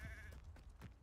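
A goat in a video game gives a short nasal bleat, two or three wavering pulses close by and fairly quiet, with no voices.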